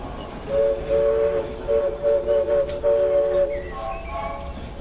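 A train whistle sounds in several sustained blasts of a steady chord, close and loud, over a low rumbling background.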